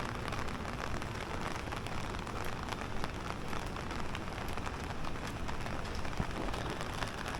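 Steady rain falls on a New York City street early on a Sunday morning during severe weather, a dense, even hiss of drops spattering pavement throughout with no break.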